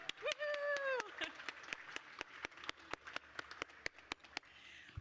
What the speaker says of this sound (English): Let's give a round of applause for the weather.